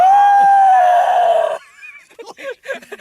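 A voice imitates an elderly woman's shriek: a loud, sustained high-pitched wail lasting about a second and a half, followed by quieter speech.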